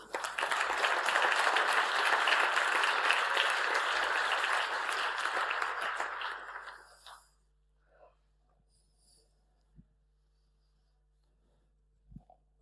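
A conference audience at a security talk breaks into dense applause lasting about seven seconds, then it cuts off into near silence broken by a few faint knocks and rustles.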